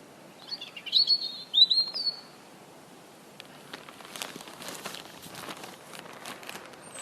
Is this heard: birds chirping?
yes